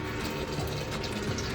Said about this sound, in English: and it's just pumping it out.